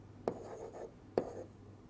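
Two distinct scratchy strokes of chalk or pen writing during a lecture, each a short sharp onset followed by a brief scrape, quiet and close with no talk.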